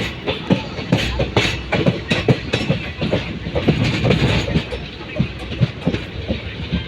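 A passenger train on the Erode to Kannur line runs along forest tracks, heard from inside a general coach as a loud, continuous rumble with rhythmic clickety-clack of wheels over rail joints.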